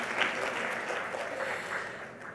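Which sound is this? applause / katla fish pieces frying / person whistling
applause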